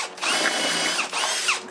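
A power drill bores a pilot hole into a hardwood post for outdoor steps, its motor whining loud and close in two sustained bursts with a short dip between them.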